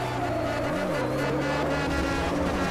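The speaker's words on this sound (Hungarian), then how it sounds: "Ennek meg pörög a motorja." Rally car engine in the video game Rally Factor, a continuous buzzing whine that briefly rises and dips in pitch and then holds steady, loud and alone.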